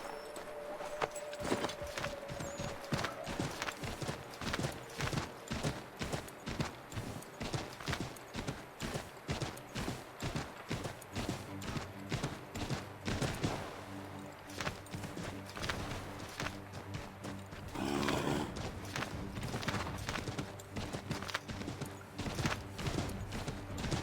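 Horse hooves galloping in the video game Assassin's Creed 3, a fast, steady clip-clop that runs unbroken and fairly loud with no talking over it.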